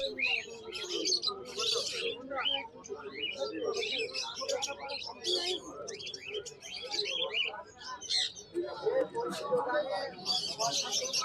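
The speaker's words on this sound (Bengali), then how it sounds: "এবারে এখানে দেখো লুটিনো ককটেল রয়েছে।" Lutino cockatiels at a busy bird market chirp and whistle constantly, with other bird calls mixed in and someone talking over the chatter.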